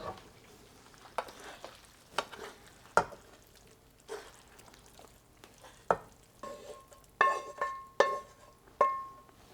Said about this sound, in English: Then we are going to mix the rest of the rice with the meat in a bigger pan